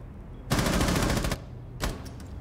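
Automatic gunfire in the video game Rainbow Six Siege rattles out in a dense, loud burst lasting about a second, followed by a shorter second burst.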